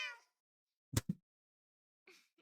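A cat in Minecraft meows in two short, close bursts in quick succession, with a brief voice before them and another faint meow after a pause of near silence.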